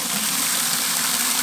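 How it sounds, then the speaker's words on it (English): Water pours steadily into a container for a backyard chicken self-watering system, a constant rushing gush heard up close for a brief moment, with no talking. "You can fill this up with water."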